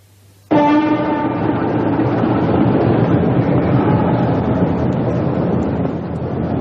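Train sound effect in a horror audio drama: a loud, steady rumbling roar starts abruptly and carries on with a faint horn-like tone at first, close and continuous.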